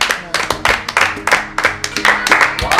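Audience clapping for a boy at a church film event, with a brisk, uneven patter of hand claps from a small group, close and lively, with some voices mixed in.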